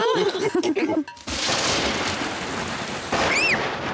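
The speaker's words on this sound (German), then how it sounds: "der Donner donnert aber laut" A loud, sustained rumble of cartoon thunder rolls in after a brief voice, followed by a steady wash of heavy rain and a short high whistling sound near the end.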